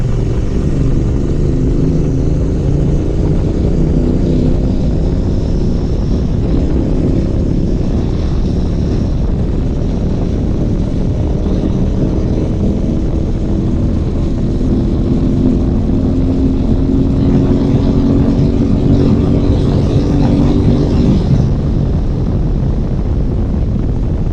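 A Royal Enfield Interceptor 650 engine revs at speed on an open road, its steady drone mostly buried under heavy, constant wind rush for the whole stretch, with no talking.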